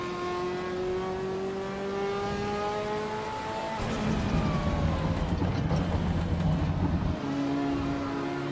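A Ferrari F40 engine in a racing video game drones steadily, then drops and rises in pitch across gear shifts, with a rougher, louder revving stretch near the end.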